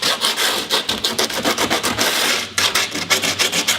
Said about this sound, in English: take your little roll of sandpaper here.